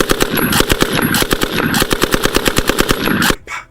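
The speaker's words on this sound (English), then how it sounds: "No, machine guns like that. Pop, pop, pop, pop, pop." Rapid machine gun fire, loud and near, a fast even string of sharp bursts that stops abruptly near the end.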